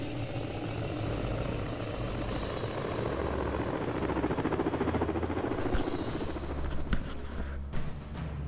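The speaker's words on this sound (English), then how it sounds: "Helicopter." A helicopter's rotor thrums steadily, loud and close, with a high whine over the chopping drone, sounding like game audio from Disney Infinity 2.0.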